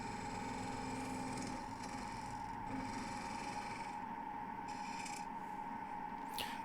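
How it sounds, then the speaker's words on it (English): End-grain wood spinning between centres on a lathe at 1400 RPM is shaped down to round, giving a faint steady motor hum under scraping, rasping cuts that come and go in short bursts. "So we're just getting the piece of wood down to round"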